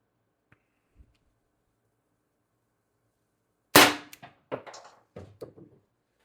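An Umarex TR50 HPA air gun at 1100 psi fires a 12.7mm ball bearing into plywood: one sharp, loud crack after a quiet stretch, followed by several clattering knocks and rattles nearby.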